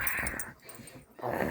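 Puppy growling while tugging a towel in play: two close bursts of snarling growl with a short pause between, fairly loud and without talk.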